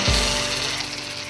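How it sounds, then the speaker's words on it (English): A power tool runs continuously as it sands a wooden katana cut from scrap plywood, a loud steady whine with a grinding edge, close up and without talk. "I'll be sanding it"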